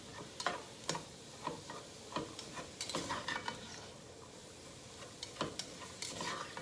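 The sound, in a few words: garlic cooking in a pan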